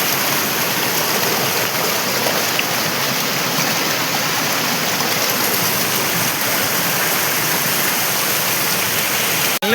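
Rushing water of a fast mountain stream pours in a loud, unbroken roar from start to finish, close by and alone, with a brief knock at the very end.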